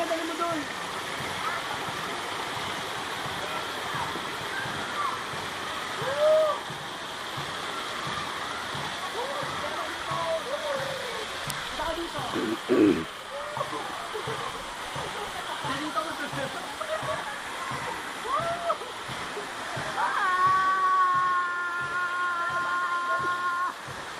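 A waterfall rushes in a constant broadband roar, with excited voices calling out over it at times.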